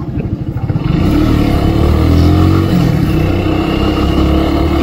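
Kawasaki W175 motorcycle pulling away from a stop, a close single-cylinder exhaust thumping at idle then swelling into a loud, steady rising drone as it accelerates.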